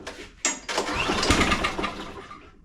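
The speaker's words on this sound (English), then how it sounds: "It hits that compression stroke and it rips the cord right out of your hand. Now when it starts, it actually runs pretty good." A Honda push mower's engine is pull-started: a sharp yank of the cord, then the engine catches and runs loud and close for a couple of seconds before fading off.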